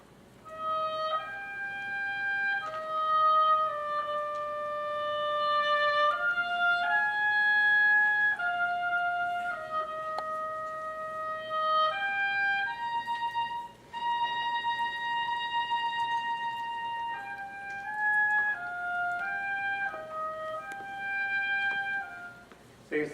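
Oboe playing a slow, poignant variation melody from the fourth movement of Beethoven's Eroica symphony, sustained singing notes moving stepwise, fairly soft and clear with no talking.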